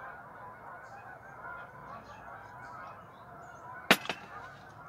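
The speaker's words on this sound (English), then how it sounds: "Canada geese, enjoy their Caribbean vacations." Canada geese honk in a short burst of two or three loud calls near the end, over a steady murmur of background noise.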